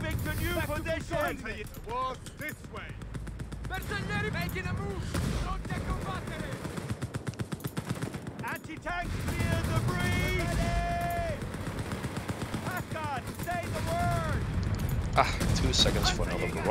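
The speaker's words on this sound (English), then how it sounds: "Creeping barrage, that's nice, that's a new thing." Creeping artillery barrage in a co-op strategy video game, repeated booming impacts and gunfire rolling under almost constant chatter from players, with tonal game sounds scattered throughout.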